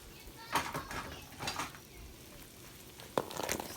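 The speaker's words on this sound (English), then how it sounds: "give it a good stir, make sure nothing's sticking on the bottom" A spoon stirring chicken and dumplings in a pot: a few scraping, clinking strokes spaced apart with a faint simmer underneath, close by.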